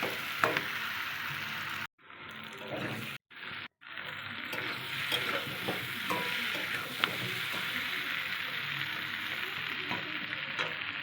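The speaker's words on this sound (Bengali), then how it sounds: "এবার ভালো করে একটু শুধু কষিয়ে নিতে হবে।" Taro and fish curry sautéing in a pan, with steady sizzling and frying broken by brief stirring scrapes and a few short pauses.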